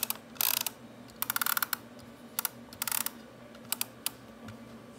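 VHS tape cassette reel being tightened against its brake, a series of small dry clicking bursts in irregular clusters, close and fairly quiet, with no talking.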